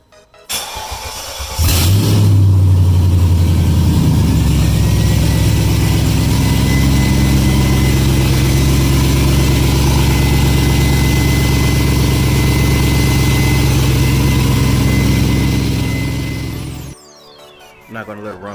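A GM E38 V8 swapped into a car fires up on its first test run, starting with a burst and settling into a loud, steady idle close by for about fifteen seconds before cutting off.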